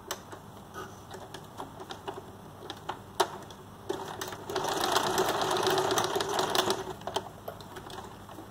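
Sewing machine running a straight stitch on elastic while reclaiming an old T-shirt: scattered ticking clicks early, then a steady dense whirring run of stitching in the middle before it slows and stops, no talking.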